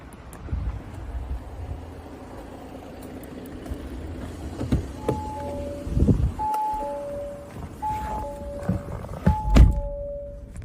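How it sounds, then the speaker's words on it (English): The electric tailgate on a diesel car's boot operates with a few soft thunks and a whirring motor, accompanied by short beeping warning tones near the end, all heard close up in a quiet outdoor setting. "As we approach the boot, we can see that it's electric."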